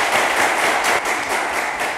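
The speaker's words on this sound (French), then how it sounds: "Merci de l'applaudir." A studio audience in a French talk show applauds steadily, a dense, loud wash of clapping that holds for about two seconds without voices.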